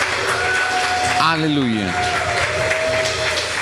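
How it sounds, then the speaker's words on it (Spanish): A church congregation applauds in a sustained wash of clapping that fills the room, with a voice calling out over the crowd. "Dale ese aplauso grande al Señor."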